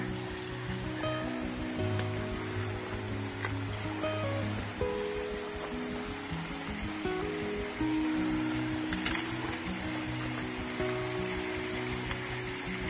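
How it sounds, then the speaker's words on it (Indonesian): Waterfall on a mountain stream during a Mount Prau hike in Central Java: a steady, broadband rush of falling water, close and continuous throughout, with no talking. "Ini ada air terjun."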